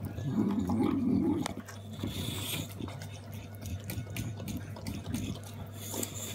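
Dogs gnaw on a chuletón steak bone, giving soft scraping, crunching and clicking bites close up at low volume, with faint background noise.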